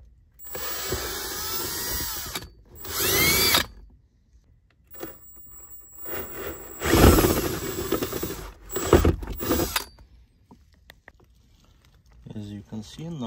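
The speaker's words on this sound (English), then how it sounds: "you can drill a small hole, big enough hole, somewhere over here" A power drill boring a small hole for a wire during a stereo install in a 2007-2012 Mitsubishi Outlander, heard in several whirring bursts separated by pauses, close and fairly loud.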